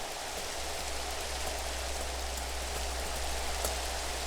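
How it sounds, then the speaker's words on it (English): Rain falls steadily in the Minecraft video game, a constant, even hiss of downpour with faint drop patter, loud and close throughout, with no talking. "It wants to rain all the time on my world here."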